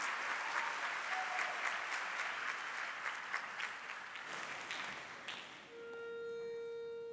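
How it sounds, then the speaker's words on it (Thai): An audience at the MAI Championship 2019 applauds a school team, a broad burst of clapping that thins and fades, then gives way to a sustained electronic tone. "ขอเสียงปรบมือให้กับโรงเรียนเซียมกระเบียวกรุงเทพมหานครค่ะ"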